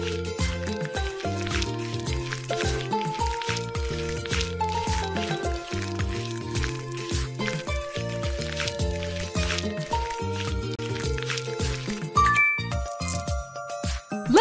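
Rinsing water in a jungle animal hair salon makeover game, heard as soft dripping and trickling chimes running steadily under a looping, bouncy music track, with no talk.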